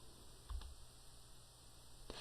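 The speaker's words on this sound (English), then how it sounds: "if I press Enter 1 more time, it will force yet another line" Enter keys on a computer keyboard give two faint, separate clicks, one early and one near the end, in a quiet room.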